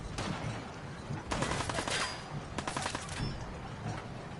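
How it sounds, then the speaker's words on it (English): Gunfire in the video game Fallout 4: several sharp shots and short bursts crackle through a dense, noisy game mix, with a few clustered reports around the middle. "Oh, those two shots miss."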